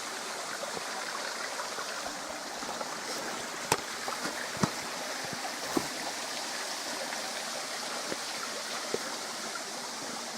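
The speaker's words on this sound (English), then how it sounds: "It's this cliff here, this waterfall." Waterfall plunging about 50 metres straight down a cliff on Mount Superbus, a steady broadband rush of falling water heard from a distance, with a few sharp knocks scattered through and no talk.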